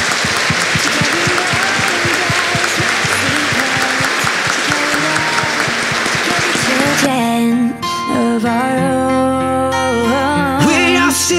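Wedding guests applaud a newly married couple with dense, loud clapping for about seven seconds, after which music with sustained tones takes over.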